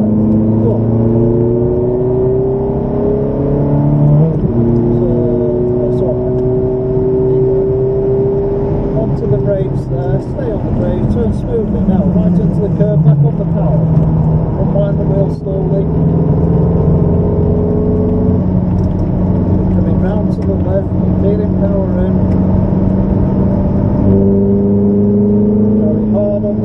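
A Ferrari engine holds power through a curve, its tone climbing and dropping with clear gear-like pitch sweeps in a loud, close, continuous drone while a driving instructor talks over it.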